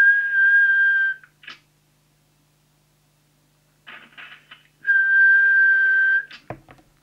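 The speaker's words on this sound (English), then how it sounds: "So give it the quick whistle test." Two sustained steady whistled tones, each about a second long, whistled into the microphone of a Team TS6M 80-channel mobile CB radio, separated by a pause with some faint clicks and rustling handling noise.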